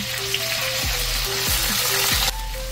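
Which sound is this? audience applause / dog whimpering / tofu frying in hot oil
tofu frying in hot oil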